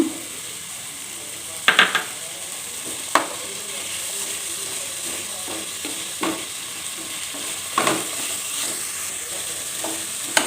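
Peas tipped into a pan of curry masala for an aloo, carrot and pea curry, frying with a steady sizzle while a spoon scrapes and stirs in several sharp clacks against the pan.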